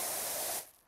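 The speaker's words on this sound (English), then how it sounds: "what are you doing hosing down an airship in the middle of my recreation grounds?" Broadband hiss of a pressure washer jet blasting grime off an airship on a recreation ground in PowerWash Simulator 2, steady and close for most of the moment, then cutting off and fading near the end.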